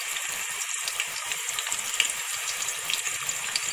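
Onions fry in hot oil in a pressure cooker for an easy biryani, a continuous bright sizzle holding steady at a moderate level, with no one speaking.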